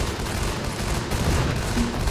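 Gunfire in the top-down squad game Guns Up comes as a dense, continuous barrage of rapid shots and blasts, loud and unbroken throughout, with no voices.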